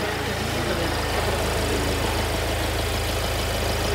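Idling engine of a 2022 Hyundai Venue facelift just after start-up, a steady low throbbing hum with an even pulsing rhythm, close and continuous with no talk.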